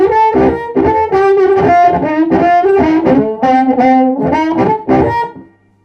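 Electric guitar played through a Fat Tone amp with the bass control turned up full, a run of plucked chords and notes, loud and close, ringing steadily for several seconds before fading out.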